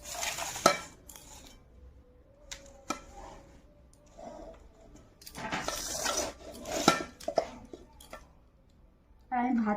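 Cooked rice scooped onto a plate in a home kitchen, with soft spoon scrapes and light clinks of utensil on dish coming in short bursts, quiet and close, between stretches of near silence.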